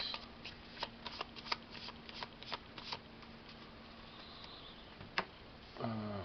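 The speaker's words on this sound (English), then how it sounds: "We shuffle the deck afterwards." A deck of cards from the board game Shephy is shuffled up close: a run of crisp, irregular card flicks and taps, ending in a quick riffle, with no voices.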